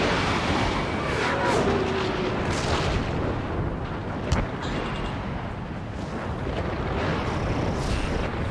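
Missile launch and explosions in the Ace Combat 7 jet combat game: a constant roaring rush of jet and air noise with dull booms, and a sharp blast near the middle.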